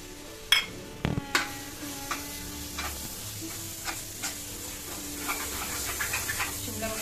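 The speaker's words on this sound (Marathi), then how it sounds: "शिमला मिरची ॲड करणार आहोत." Capsicum frying and being stirred in a pan of spiced pav bhaji masala, with a steady sizzle under scattered stirring clicks and scrapes, close up and moderate in level.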